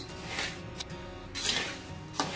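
Rice flour roasting in a pan for Maharashtrian chakli bhajni, stirred with a spatula: soft close scraping and rubbing strokes with a few sharper swishes, quiet and without talk.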